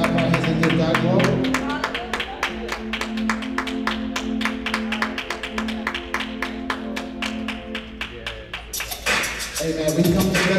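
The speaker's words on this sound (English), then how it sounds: "Can we just clap our hands and give God glory?" A church congregation claps their hands together in a steady, even rhythm, sustained at close range over music, the clapping briefly breaking off near the end before resuming.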